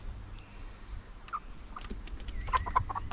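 Hens cluck softly and intermittently inside a henhouse, a few short calls scattered over low background noise.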